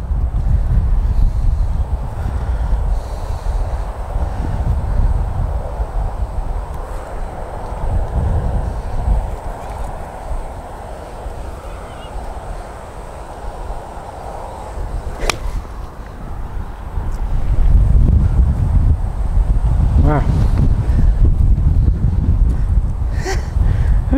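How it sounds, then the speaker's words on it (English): Steady outdoor wind roars and buffets a microphone on a golf practice range, rumbling low and constant throughout with stronger gusts near the end and a few sharp brief snaps. "it's just the wind just wants to blow you into the ball"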